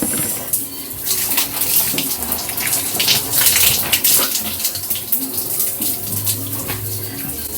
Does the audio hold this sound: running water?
yes